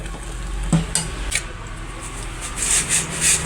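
Boiling sugar syrup for homemade candy (kalla mittai) is stirred in a pot, making loud close rubbing and scraping strokes over a bubbling background, a few sharp knocks early on, with no talking.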